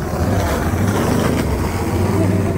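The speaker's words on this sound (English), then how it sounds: "Motorcycle." A motorcycle roars past on a busy street near Santa Monica Pier, a loud, steady engine rumble that fills the whole moment with no clear pause.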